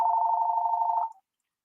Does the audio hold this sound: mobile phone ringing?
yes